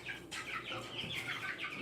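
Chickens cluck softly in a garage, a short run of close, low chatter.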